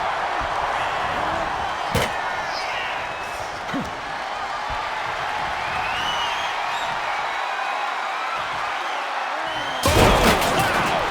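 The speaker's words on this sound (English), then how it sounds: "Just the chilling sound of bone meeting steel." A sharp, heavy impact cracks out early, and a second loud crash lands near the end, both over a steady roaring crowd.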